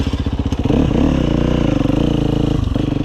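A loud dirt bike engine throbs close by, climbing into a sustained rev before dropping back to a choppy idle.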